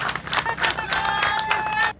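A crowd at a Tarehe Sita defence forces week ceremony applauds for President Museveni, with steady clapping and mingled cheering voices that swell and then cut off abruptly after two seconds.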